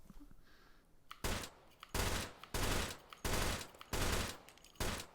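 Three-round burst gunfire from a weapon in Hot Dogs Horseshoes & Hand Grenades, a series of sharp, loud bursts in a regular rhythm, close up with short quiet gaps and no talk.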